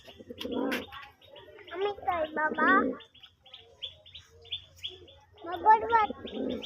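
A large male desi pigeon gives excited, repeated cooing calls in throaty gurgling bursts with short pauses between them, close and clear, while someone talks briefly in the background.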